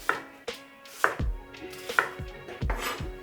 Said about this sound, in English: I'm simply gonna cut it in half and then give it sort of a medium chop